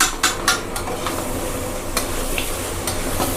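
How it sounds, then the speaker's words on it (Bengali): Whole garlic cloves frying with two kilos of mutton in a pot for a Bihari-style mutton curry, a steady close sizzle broken by several sharp scrapes and clinks of a spoon stirring against the pot. "8খানা মতো গোটা রসুন দিয়েছি, এর সঙ্গে কষতে থাকবো।"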